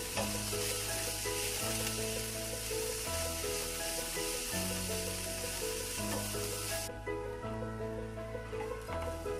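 Cauliflower filling frying in a pan over raised flame, a steady loud sizzle broken by repeated scrapes and stirring strokes throughout, with no voices.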